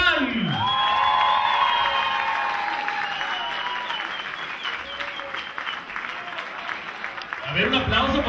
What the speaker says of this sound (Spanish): Quiero que brindemos un fuerte aplauso como se merece a una gran exponente de la música mexicana a nivel internacional